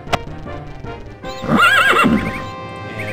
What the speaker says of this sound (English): Yeah, it doesn't like that horse noise.